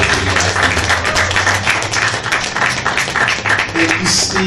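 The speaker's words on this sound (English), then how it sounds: "please give it a round of applause for this gentleman here" Close, loud applause from an audience at a fundraising campaign kickoff, dense clapping holding steady throughout, with a brief higher-pitched sound near the end.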